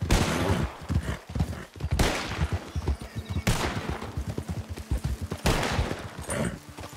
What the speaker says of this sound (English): I was shooting at a pronghorn